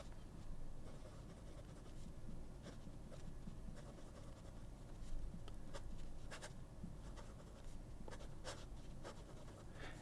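A Maiora Ultra Ogiva T22 fountain pen nib scratches across paper in short irregular strokes, a faint dry papery scratching with slight pencil-like feedback, quiet and close.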